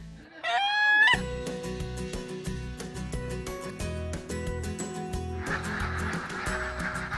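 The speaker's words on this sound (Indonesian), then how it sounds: "Kata Pak Edi, mengembangkan dan memelihara ayam ketawa terbilang mudah" An ayam ketawa, the Indonesian laughing chicken breed, gives a short rising crow of about a second, and loud rhythmic music then takes over.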